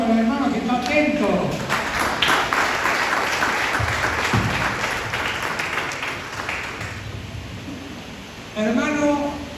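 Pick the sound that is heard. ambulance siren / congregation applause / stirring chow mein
congregation applause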